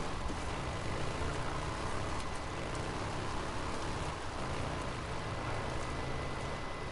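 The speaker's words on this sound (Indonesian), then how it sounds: "Kan hujan kan, becek kan." Steady rain in the video game Days Gone, falling as a faint, even hiss on a muddy dirt setting, continuous and unchanging throughout with no talk over it.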